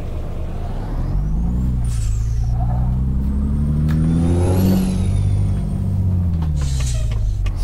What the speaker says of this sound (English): you can tell it's an absolute beast right from the start when you rev it up